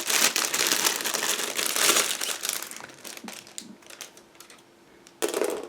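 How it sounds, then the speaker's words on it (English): A plastic bag holding parts of an IBG Models 1/35 KTO Rosomak scale model kit is opened with close, busy crinkling and crushing for several seconds, a brief lull, then a final burst of rustling. "Next we have another plastic bag. Again, give me a second to open it."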